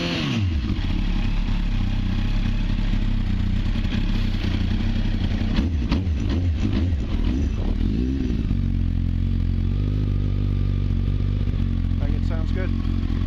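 A Honda Fireblade streetfighter motorcycle engine idles and revs nearby on a cold start, a loud steady rumble with a few swells of throttle, while someone talks over it.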